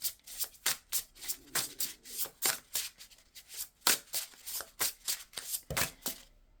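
A deck of tarot cards is shuffled by hand in a quiet room, a rapid series of crisp riffling and rubbing bursts in an uneven rhythm, close and clear, with no talk.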